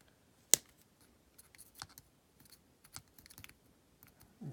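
Wire cutters snip electrical wires: a sharp isolated clip, then a series of softer scattered clicks and snips, and another crisp cut at the end, close and otherwise quiet.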